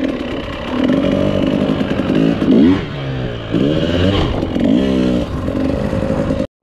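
A dirt bike warming up at Jawbone Canyon in the desert, its engine revving up and down in repeated rising and falling sweeps, loud and close throughout with no talking.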